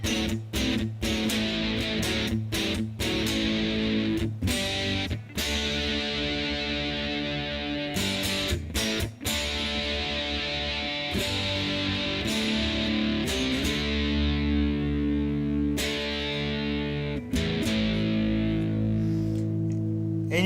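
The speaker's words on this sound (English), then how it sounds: "Now this is the crunch channel." Electric guitar played through an amplifier's crunch channel: sustained, distorted chords ring loud and close with rhythmic strummed attacks and brief choked gaps, running continuously without talk.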